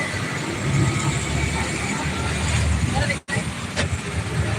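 Auto rickshaw in motion, a steady loud engine drone and road rumble filling the ride from the inside, with one brief dropout near the end.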